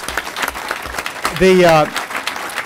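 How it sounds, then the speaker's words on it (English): Applause at a school board meeting honoring teachers and families. Clapping fills the room under a brief rising whistle or cheer partway through, lasting just under three seconds. "So big round of applause for everybody, including family support at the campus."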